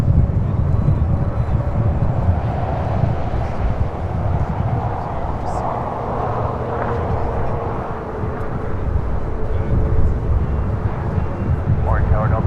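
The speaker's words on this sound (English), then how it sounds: "Delta Airlines Flight 957 coming in from Raleigh, Durham in an A321 Neo." A Delta Airlines Airbus A321neo arrives at LAX, heard as a continuous low jet roar that swells and holds for the whole stretch, with faint radio chatter in the background.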